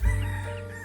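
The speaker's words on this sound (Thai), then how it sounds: "ไก่ป่ามาอีกแล้ว" Wild junglefowl crowing at the edge of a yard where chickens are kept, one short, fairly loud call with a strong steady tone that cuts off after under a second.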